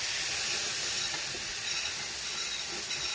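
Loud, steady steam hiss and sizzle rise from a pan of liver and onions frying in oil drippings, filling the whole stretch with no talk over it.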